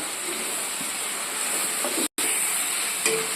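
Curry leaves sauté in a pan for a prawn gravy, producing a constant close hiss and soft sizzle, broken by one short silent gap.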